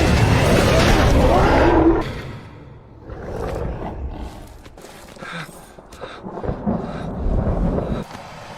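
Thunder rumbles during heavy night rain in a film scene, a loud deep roll opening the passage and fading, followed by softer rumbling and rain wash with scattered bumps.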